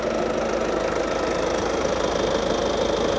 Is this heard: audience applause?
no